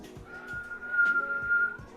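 A person whistles one steady sustained note during a live comedy variety show, fairly faint, with soft thumps and room noise beneath.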